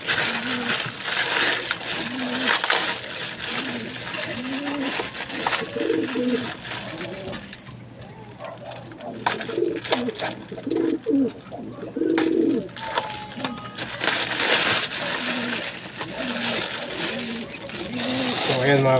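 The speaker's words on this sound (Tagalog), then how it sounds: "ayan mga kalapatids." Pigeons in a large coop coo repeatedly in soft, rolling calls close by, with flapping, shuffling and other bird sounds mixed in and someone talking over parts of it.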